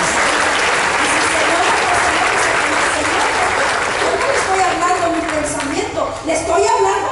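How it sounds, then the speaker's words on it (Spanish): A church congregation bursts into sustained, even applause that fills the space, loud and continuous, with a few voices rising faintly near the end. "Pues denle un aplauso al Señor."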